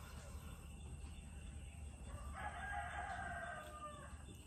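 A rooster crows once from a distance, faint but clear over a steady background hum in a quiet morning setting, with no voices.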